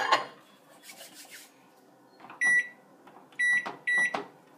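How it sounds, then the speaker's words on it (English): A kitchen microwave oven melting white chocolate gives three sharp electronic beeps in quick succession, close and clear after some quiet handling and rustling near the appliance. "We're going to put the white chocolates in the microwave."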